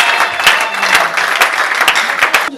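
A church congregation at a 2018 conference applauds the Lord, with loud, sustained clapping and cheering from a large crowd filling the room.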